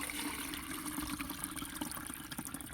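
Water soaked with onion leaves strained and poured into a pot as a rose plant feed, a steady close splashing pour running throughout with no talk.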